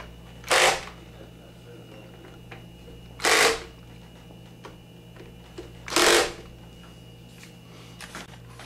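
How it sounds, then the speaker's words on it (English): A Ryobi power drill tightens screws on a PS3 console casing in three short, loud whirring bursts spaced a few seconds apart, over a quiet background. "I use this Ryobi so that when I do tighten down, it does not strip them out."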